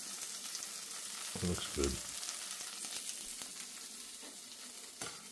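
A slice of whiskey-and-pumpkin-spice egg-soaked French toast frying in a pan, a steady soft sizzle with a couple of brief louder bursts as it settles, and a short spoken remark.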